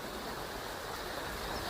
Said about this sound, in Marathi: मोठ्या प्रमाणामध्ये पाणी वाहते